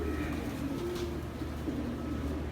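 Racing pigeons coo in a large loft holding thousands of birds, a low steady murmur of many overlapping calls with no clear gaps, continuous and moderately close.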